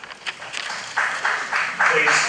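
A crowd applauds at a public hearing on the Longview bulk coal export terminal, with bursts of clapping that rise and fall in several waves over a couple of seconds, mixed with voices.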